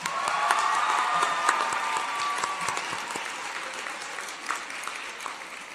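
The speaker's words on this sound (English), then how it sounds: "Give a round of applause." Steady applause from an audience at a teen press conference, moderate and continuous for several seconds, gradually thinning toward the end.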